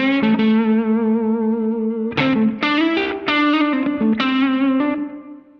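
Electric guitar played through a Spaceman Ixion compressor pedal, sustained chords ringing out then a series of punchy, evenly compressed strums with a driven, effected tone, loud and steady throughout.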